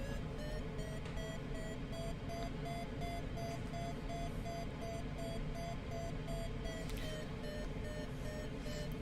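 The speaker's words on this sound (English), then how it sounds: "the pitch and the frequency of the beeps that you hear on the variometer correspond to the rate of climb" Steady electronic beeping from a glider variometer in Microsoft Flight Simulator repeats in a quick rhythm over a dense, continuous background hum, the tones shifting slightly in pitch with rate of climb while circling in a thermal.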